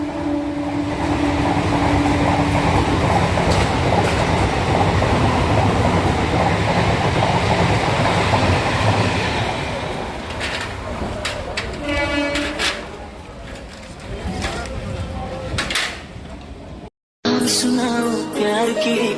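A train pulls into a station platform where a crowd waits, its loud, close rumble and wheel clatter filling the air before easing off, with a brief cut to music at the end.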